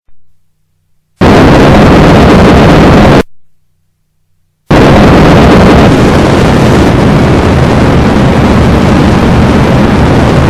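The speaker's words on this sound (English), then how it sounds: "After landing, you may hear increase in the engine sounds. This is the engine place in the rear thruster," Loud, roaring thrust from a spacecraft's rear engine after landing in a video game, cut by two short silences before settling into a sustained, dense engine rumble.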